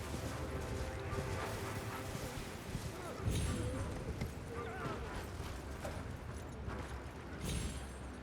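Horse hooves clip-clopping in the video game Elden Ring, a steady galloping patter under continuous game ambience with a few louder thuds and rustles, and someone talking over it.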